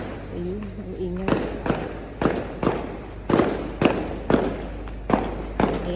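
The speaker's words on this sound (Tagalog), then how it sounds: "maingay na yung paputok" Chinese New Year firecrackers pop in a steady series of heavy thuds about every half second, somewhat distant and booming, with a voice briefly heard near the start.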